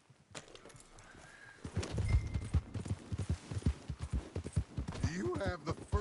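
Horse hooves clip-clop in Red Dead Redemption 2, a quick, rhythmic run of close hoof strikes gathering pace, with a voice speaking over them and a brief whinny near the end.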